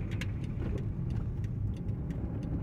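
Car traffic on a city street in São Paulo's Bela Vista (Bixiga) neighbourhood, a fairly quiet, steady engine drone with a vehicle rolling past at moderate distance.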